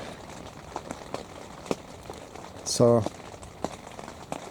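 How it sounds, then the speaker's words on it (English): Rain falls steadily at a Colorado elk bowhunting camp, a soft continuous patter with scattered sharper drops, and a voice speaks briefly partway through. "raining. Hopefully it'll stop soon."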